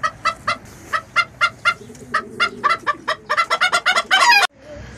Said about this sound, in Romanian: găini pitic, mii de flori, alb bobat pe negru, ca și culoare